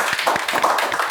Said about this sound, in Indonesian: Tepuk tangan dong, Nur.